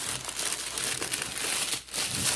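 Plastic shrink wrap bag crinkling continuously up close, a dense, noisy rustle with irregular crackles and one brief lull, wrapped around a gift basket.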